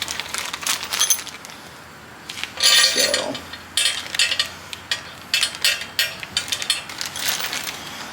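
Metallic clinks and ratcheting taps while new bolts go into an LS engine, a string of short, irregular clicks and rattles at close range, with a brief low scrape partway through and no talking.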